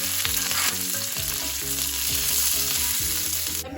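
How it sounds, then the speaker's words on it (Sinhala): Ginger, garlic and curry leaves sizzle loudly in hot oil, a dense steady hiss with crackling pops running throughout, close and alone with no talk. "ඊට පස්සේ රත් වෙච්ච තෙල් එකට අපි එකතු කරගන්නවා ඉඟුරු සුදු ලුණු ටිකක්"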